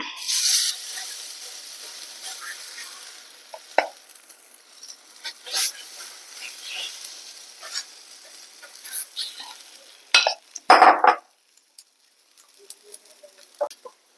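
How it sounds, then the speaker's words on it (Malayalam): Batter for a cheera (spinach) snack is poured into a hot pan and sizzles faintly, with scattered scrapes and clinks and a louder burst of sizzling and clatter toward the end. "ഇപ്പൊ ഒന്ന് ചൂടായിട്ടുണ്ട് അതിലേക്ക് നമുക്ക് ഈ മാവ് നമ്മൾ എടുത്തു വച്ചിരിക്കുന്നത് കോരി ഒഴിച്ചു കൊടുക്കാം"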